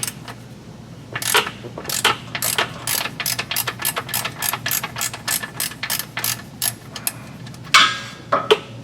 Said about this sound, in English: This is an 18mm socket we're using.